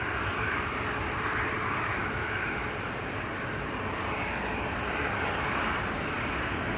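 A passenger jet thunders down the Kaagbaan runway at Amsterdam Schiphol on takeoff, a broad, steady, distant roar that holds for several seconds without speech.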